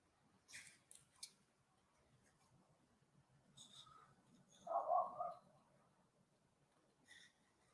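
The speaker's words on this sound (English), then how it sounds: "Might just fussy cut around these little presents." Scissors snipping around small paper present shapes during papercraft, a few quiet, brief cuts spread out with a louder rustle of paper midway, close and faint.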